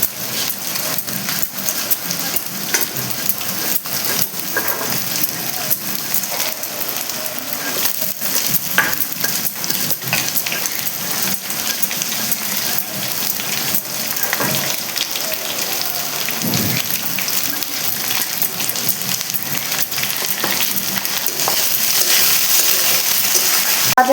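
Garlic and potatoes fry in hot oil in a pan for loita dried fish and red amaranth, giving a loud, steady crackling sizzle with sharp spits and pops throughout, no voices.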